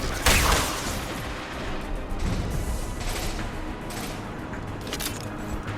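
Impact shot weapon firing in the video game Mass Effect 2, a sharp blast followed by a dense, steady wash of crashing combat noise at moderate level, with no clear speech.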